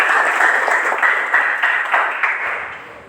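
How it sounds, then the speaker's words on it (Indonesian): Students in a physical education, health and recreation university class break into sustained applause, a dense wash of many hands clapping that gradually tapers off toward the end. "Tepuk tangan untuk kita semuanya."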